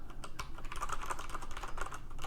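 Steady typing on a SteelSeries Apex M500 mechanical keyboard, with quick continuous keystrokes clattering close up and no voices.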